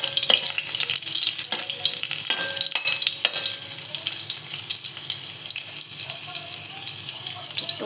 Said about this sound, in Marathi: थोडं लसूण परतून घेऊया.